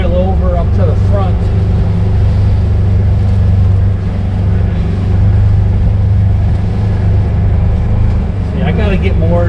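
A Polaris Ranger Ultimate side-by-side rolls along a trail, its engine a steady loud drone close by throughout, while voices talk over the running motor.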